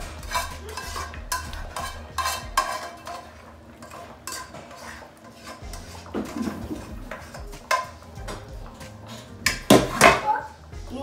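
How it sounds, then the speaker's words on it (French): A spoon stirs okra into sauce in a saucepan, making repeated scraping clinks against the metal pot with a few louder knocks near the end, close and fairly quiet. "Nous venons encore bien mélanger notre gombo dans la casserole de la sauce."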